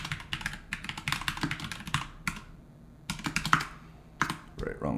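Password typed on a computer keyboard: rapid bursts of clacking keystrokes, close and fairly loud, with short pauses between runs and a voice speaking briefly over parts.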